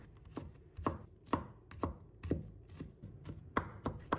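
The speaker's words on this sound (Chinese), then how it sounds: "再把它切成蒜末。" A knife chops garlic into mince on a cutting board, a brisk, even series of crisp taps about two per second, close and quiet with no talking.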